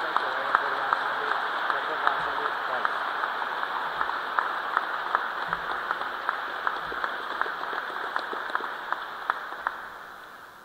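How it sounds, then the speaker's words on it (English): An audience at an air force change of command ceremony breaks into steady, moderately distant applause, a continuous patter of many hands with sharper individual claps standing out, slowly fading toward the end. "I know we applauded you earlier and would like to do that again"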